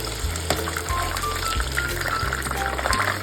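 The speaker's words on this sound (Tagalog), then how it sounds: "Make sure na ipiprito natin yung chicken in low heat para hindi agad masunog yung labas" Marinated chicken pieces frying in oil over low heat, a steady close sizzle and crackle running throughout with faint liquid bubbling underneath.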